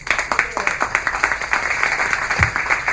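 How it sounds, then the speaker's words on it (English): Audience applauding after a talk on biohacking for entrepreneurs, sparse individual claps distinct in a room, with a voice or two briefly under the clapping. "One more round of applause."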